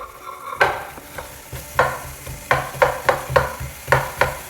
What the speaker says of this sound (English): Okay, so that's one sliced onion. And I'm just going to saute that off.